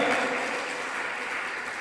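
Church congregation applauding during a sermon, a steady, dense wash of clapping that holds at an even level from start to finish with no voices over it.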